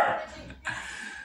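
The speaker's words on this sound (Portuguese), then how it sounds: "Esse cachorro que está latindo aí" A dog barks in the background with a couple of distant, muffled yaps, faint against a steady room hum.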